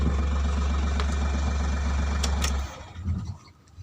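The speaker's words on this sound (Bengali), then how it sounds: "এখন অন করি এখন হয়েছে গাড়ি কিন্তু অন হয়ে গেছে" An Ashok Leyland Dost Plus pickup with a 9.3-foot chassis idles nearby with a steady low, throbbing engine hum, then cuts out abruptly, leaving a few faint clicks and rustles.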